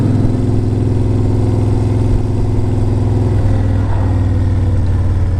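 A 2006 Victory King Pin cruiser motorcycle's V-twin engine pulls hard under acceleration, a loud, steady, throbbing rumble close up that holds without a break.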